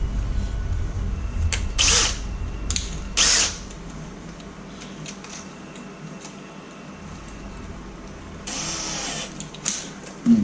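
A few short bursts of a power drill boring a pilot hole during dishwasher installation whir on and off against a quiet background, with light clicks and handling noises between them.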